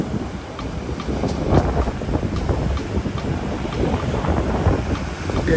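Cold sea wind blowing on the beach at Cửa Tùng on a rainy day, a continuous broadband rush and buffeting against the microphone with faint surf underneath.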